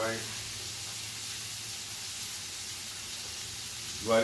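Bacon, onion and dark brown sugar sizzle steadily in a pan, a continuous even hiss that holds at the same level throughout, with a brief louder rustle at the very end.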